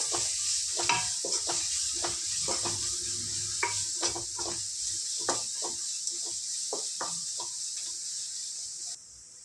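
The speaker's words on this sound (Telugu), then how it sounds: "ఒక టూ స్పూన్స్ సాల్ట్ వేసుకొని అల్లం వెల్లుల్లి పేస్ట్ పచ్చివాసన పోయేంత వరకు చక్కగా ఫ్రై చేసుకోవాలి" Ginger garlic paste with salt and turmeric frying in a pan for a paneer gongura curry, a low sizzle under repeated sharp scrapes and taps of a spoon stirring against the metal, no speech.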